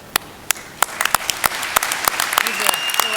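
Applause at an Indiana State Police recruit class graduation ceremony starts as scattered sharp claps and builds into denser clapping from a crowd in a hall.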